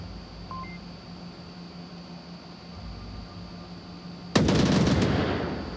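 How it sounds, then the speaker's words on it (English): A grenade detonates in the VR shooter Onward, a single sudden loud blast near the end that lingers as a broad rumble, after a stretch of quiet ambient hum. "Nades coming out, not finding anyone."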